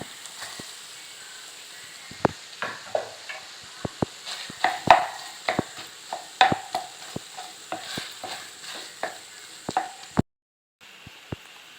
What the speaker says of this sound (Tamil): இதை அப்படியே நம்ம அந்த முட்டையை சேர்த்துக்குறோம்